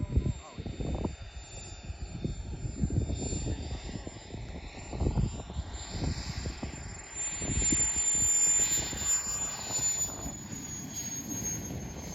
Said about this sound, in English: the plane is down and landed safely, back on the ground